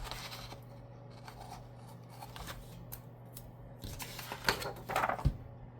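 Scissors cut paper for a budget planner monthly layout, with a few quiet, close snips and rustles followed by louder crisp cuts near the end.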